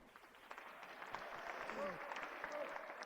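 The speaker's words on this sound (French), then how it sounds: "Bruno, que l'on peut encore applaudir" An audience applauds at the opening of a cabaret show at the Manège in Reims, a faint, distant ripple of clapping that swells slightly midway with voices mixed in.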